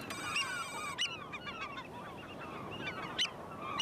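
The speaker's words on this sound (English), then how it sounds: "It's a real chirp, chirp. That's the oyster catcher." Oystercatcher on a shoreline, a string of sharp high piping calls and peeps repeating irregularly, fairly faint against a soft outdoor background.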